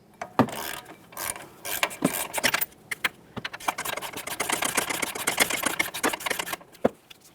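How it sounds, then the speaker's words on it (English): A 17mm wrench works the caliper bracket bolts on a 2010-2013 Kia Forte Koup, giving a busy run of close metallic clicks, ratcheting and tool clatter with no talking. "Along the backside of the caliper, we'll be using a 17mm to remove each of these bolts."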